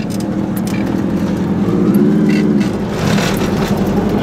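A car drives on a two-lane road into the village of Rögnitz in Landkreis Nordwestmecklenburg, its engine and tyre rumble steady and close from inside the vehicle, with no talking.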